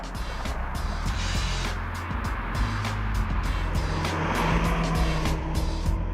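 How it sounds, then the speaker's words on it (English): A race car on Michelin Pilot Sport 4 tyres is pushed hard through a track corner, its engine droning steadily with faint tyre noise, moderately loud and without talk. "But pushing those Michelin Pilot Sport 4s hard through turn 2."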